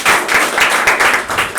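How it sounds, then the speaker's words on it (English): Audience applause at a college event in Nairobi, a short, dense burst of clapping that holds steady throughout, fairly loud and close, with no voices above it. "can you give yourself a big applause?"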